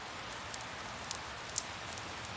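Steady rain falling around an outdoor football ground, a dense even hiss with a few sharper drip accents, close and constant with no talking.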